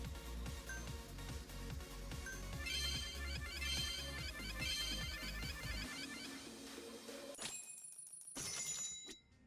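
A phone rings in the video game Yakuza Kiwami 2 over loud pulsing game music, a bright repeating electronic ring that continues after the beat stops, ending with a short chime.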